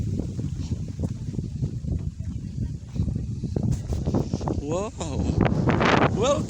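Gusty wind buffets the microphone at a highland overlook in Legazpi, Albay, facing the volcano, a steady low roar with rustling bursts under people chatting in the background.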